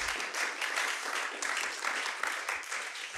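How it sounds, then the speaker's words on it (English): Audience applause at a tech conference session, a steady wash of many people clapping at moderate distance, fairly quiet and continuous without speech over it. "Round of applause."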